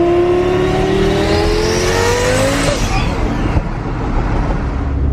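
A twin-turbo Lamborghini on a low boost setting accelerates hard and close, its engine note climbing steadily through the gears before easing off, with loud continuous roar throughout.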